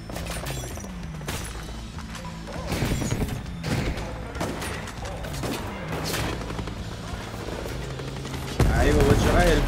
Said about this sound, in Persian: ای بابا چقدر هلیکوپتر میاد.